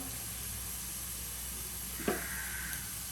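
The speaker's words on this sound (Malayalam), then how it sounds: "അത് നന്നായിട്ടൊന്ന് വഴണ്ട് വരട്ടെ" Food sautés in a pan with a continuous soft sizzle and hiss, broken once by a short clatter of a spoon scraping or stirring near the end.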